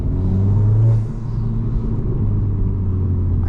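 Modified 2022 Honda Civic Si with turbo, high-volume intake, downpipe, front pipe and catback, heard with windows down on a night drive: loud steady engine drone with a surge of revving early on, then settling into a continuous rumble.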